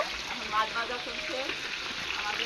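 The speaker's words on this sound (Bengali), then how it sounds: "এখানে এখন মাছ ভাজা চলছে" Fish frying in a pan at a home kitchen, a steady crackling sizzle filling the background with faint clinks and bits of voices nearby.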